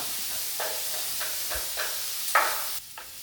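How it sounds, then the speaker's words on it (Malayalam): Chopped onion and green chillies sautéing in hot coconut oil for a Vatta fish curry, a steady soft sizzle with a few louder stirring scrapes and hisses, close and without talk. "വെളിച്ചെണ്ണയൊക്കെ പാർന്ന് ചൂടായ ശേഷം വലിയ ഉള്ളി, പച്ചമുളകും അത് അരിഞ്ഞത് നന്നാക്കിയിട്ട് വഴറ്റിയെടുക്കാം"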